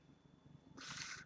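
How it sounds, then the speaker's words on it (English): A house cat gives a single brief, faint hissing or breathy cry at the very end, following quiet low room rumble with no talk. "That's my cat."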